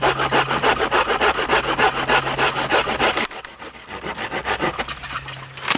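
Handheld saw cutting the excess off a wooden branch outdoors: fast, rhythmic rasping strokes, loud and close, with a short pause before sawing resumes.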